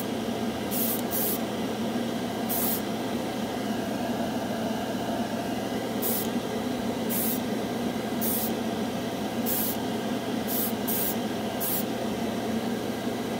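An airbrush sprays Alclad chrome paint onto a black spoon, a steady close hiss running throughout with several short, sharper bursts of spray at irregular intervals.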